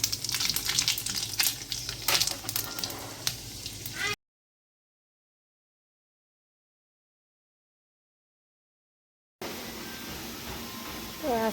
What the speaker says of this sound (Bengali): স্কোয়াশটা ভাজা করে নেব।